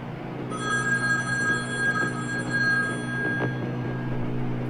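A telephone rings with a sustained electronic bell tone that starts after a brief pause and holds steady for several seconds, clear and fairly close, with no speech.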